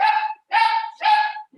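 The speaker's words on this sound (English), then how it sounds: "Here's my dog." A dog barks three times close by, each bark a loud drawn-out yelp with short gaps between, ending with a brief faint sound at the very end.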